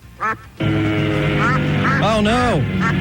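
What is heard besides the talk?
duck quacking at the Deming duck race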